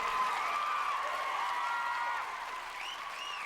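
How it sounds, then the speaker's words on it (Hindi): An audience applauds steadily for a few seconds in a church-style Christian teaching setting, a dense wash of many hands clapping that eases slightly toward the end. "चलिए दोस्तों, आप सब इनके लिए तालियां बजाइए।"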